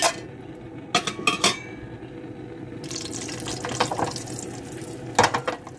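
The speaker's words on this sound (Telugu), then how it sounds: "మసాలాలో జీడిపప్పు వేసేసుకుందాము" Cashews go into a pot of masala frying in homemade ghee, with a few clinks of a spoon against metal followed by a soft, steady sizzle and stirring scrapes, fairly quiet and close.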